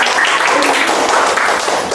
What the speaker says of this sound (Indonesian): Oke, tepuk tangan untuk kelompok.